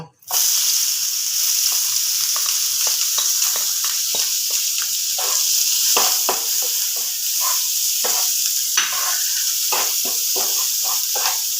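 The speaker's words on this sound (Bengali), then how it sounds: "এবার পেঁয়াজ আর লঙ্কা কুচিগুলো ছেড়ে দেব" Chopped onion and green chili hit a little hot oil in a pan and start a loud, close hiss that settles into a steady sizzle, with frequent sharp crackles and stirring scrapes throughout, no talking.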